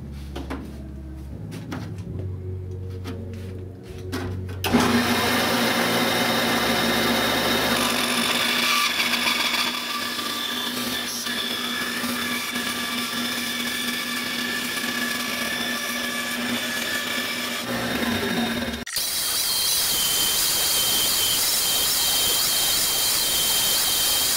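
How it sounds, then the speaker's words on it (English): Bandsaw cutting a wooden blank for an apple bowl in a woodshop, a steady loud whine that starts a few seconds in after a quieter hum, runs continuously and then shifts to a brighter hiss near the end. "So next thing we'll do is cut this out in a bandsaw."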